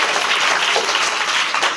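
A crowd claps at a house cultural event with dance and song, giving a brief, dense burst of applause that holds steady and loud for its whole length.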